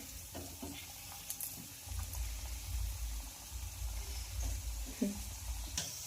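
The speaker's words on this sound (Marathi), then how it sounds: "मीडियम गॅसवर आपल्याला ही शंकरपाळी फ्राय करून घ्यायची आहे" Shankarpali, a layered fried snack, fry in hot oil over a medium gas flame, a soft continuous sizzle and bubbling with faint clinks and stirring, fairly quiet and steady.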